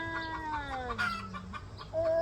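Chickens clucking close by in a loud, busy run of overlapping calls with a rooster-like tone, no talking.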